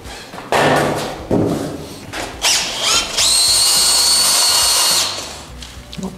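A power drill mixing a bucket of plaster skim coat runs in short bursts, then in a long, steady whine, with thumps and knocks of the paddle against the bucket before it winds down.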